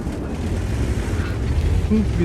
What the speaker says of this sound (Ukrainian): Тут такий рікошет конкретніший.